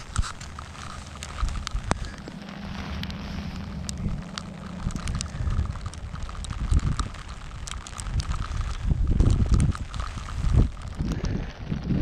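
Rain falling at a pond during fishing, a steady broadband hiss with scattered taps and patter, loud and close throughout, with some low rumbling and wind-like buffeting.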